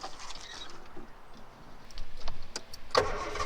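A 1971 Triumph Vitesse Mark 2 drives along with a steady, moderately loud engine and road rumble. A few sharp clicks and knocks sound near the end, with no talking.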